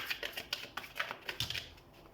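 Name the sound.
shuffling tarot cards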